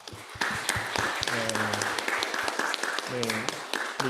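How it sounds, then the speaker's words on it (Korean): Applause from a church congregation during a Sunday service fills the room, steady clapping throughout, with a voice speaking briefly over it partway through. "잠깐 일어나실 때 박수로 환영하겠습니다"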